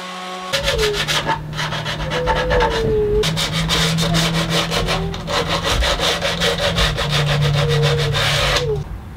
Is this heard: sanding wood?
yes